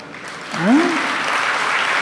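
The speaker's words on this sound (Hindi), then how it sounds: "ताली बजाओ" Audience applause in a spiritual gathering hall, steady clapping that swells briefly near the start and then holds as a dense, even patter, with a voice speaking over it for a moment.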